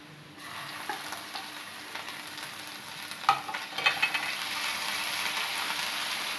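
Sliced onion and ginger-garlic paste fry in a pan for chilli pork, a continuous close sizzle that grows fuller as the paste goes in, with a few metallic scrapes and taps from stirring.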